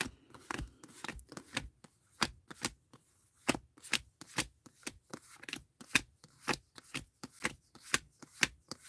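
Tarot cards are handled and sorted by hand, giving a steady run of crisp, close snaps and flicks as cards are squared and laid down, with no talking.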